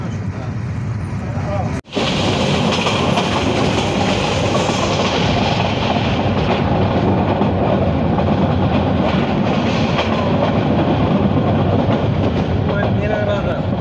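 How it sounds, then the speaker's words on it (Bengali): The Egarosindhur Provati intercity train, hauled by a Hyundai Rotem 738 locomotive, departs Narsingdi railway station for Dhaka with a loud continuous rumble and rhythmic wheel clatter heard from on board, broken by one sharp momentary cut near the start. "কাঙ্ক্ষিত ট্রেনটি নরসিংদী রেলওয়ে স্টেশন থেকে ছেড়ে দিল ঢাকার উদ্দেশ্যে।"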